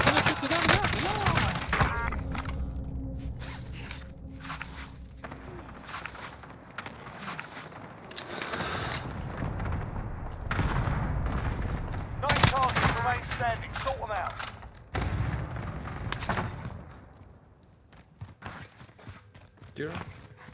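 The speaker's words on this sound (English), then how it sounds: "I'm gonna shoot the gun back." Bursts of gunfire in Call of Duty: Warzone rattle on and off at varying loudness amid dense battlefield noise, with players talking over the action throughout.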